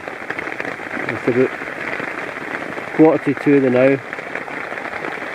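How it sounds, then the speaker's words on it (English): Steady heavy rain drums on a DD tarp strung over a hammock in the Scottish outdoors, a constant broadband hiss throughout, while someone speaks briefly over it. "it's basically been torrential rain all day, or all morning."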